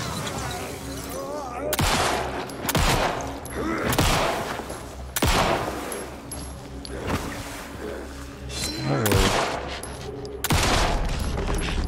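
Loud, sharp gunshots from a firearm in the Alan Wake 2 video game ring out one at a time at irregular intervals, about seven or eight cracks with short reverberant tails and some background talk between them.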